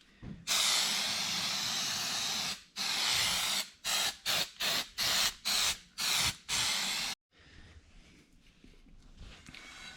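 Gasket stripper is sprayed from an aerosol can onto a BBS RS three-piece wheel: a long loud hiss, then a string of short rapid bursts and one final spray, before quiet.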